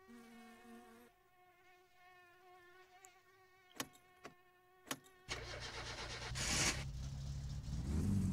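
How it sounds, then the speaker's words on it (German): A car engine in the driving game My Summer Car cranks over with a few sharp clicks, then catches and settles into a loud, steady running rumble, preceded by a faint buzzing whine. "Heißt, mein Fahrzeug sollte jetzt wieder starten."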